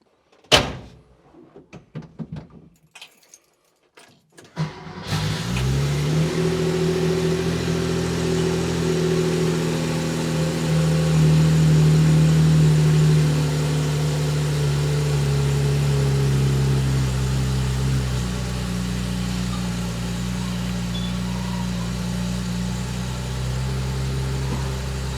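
A modified Porsche 911 hotrod starts up after a few clicks and clunks, then its engine runs steadily and rises and falls as it drives along a road.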